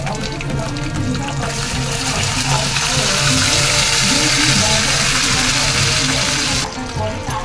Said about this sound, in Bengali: তারপর এখানে হালকা একটু পানি অ্যাড করব